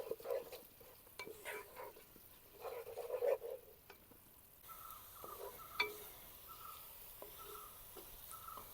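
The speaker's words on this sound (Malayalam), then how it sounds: "നമ്മൾ ഉണക്കമുളക് ചതച്ച് വെച്ചിട്ടുണ്ടായിരുന്നില്ലേ, അത് കൂടി ഇട്ടിട്ട് നന്നായിട്ട് വഴറ്റിയെടുക്കാം." Crushed dried chili is stir-fried in a pan for a gooseberry pickle, with a steady close sizzle and repeated scraping strokes of the spoon against the pan. No one speaks.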